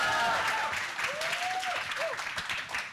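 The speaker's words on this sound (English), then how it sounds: "Please give a big round of applause for A Mini Truck Story." Audience applause for a short film pitch at a film pitching competition's final round, a steady wash of clapping throughout while a voice speaks over it.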